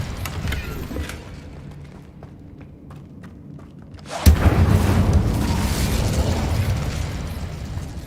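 Incendio fire spell cast in the video game Hogwarts Legacy: quiet ambience breaks into a sudden loud burst, followed by a sustained roaring rush of flame.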